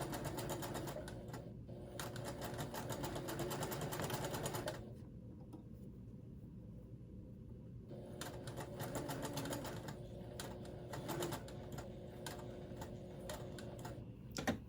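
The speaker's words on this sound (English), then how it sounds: "so we got that part sewed on" A sewing machine stitches a sun dress with rapid ticking clatter, fairly faint, stopping briefly in the middle before resuming in bursts.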